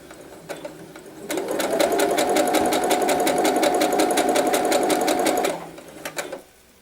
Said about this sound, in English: we're just going to continue sewing till we reach the corner right here.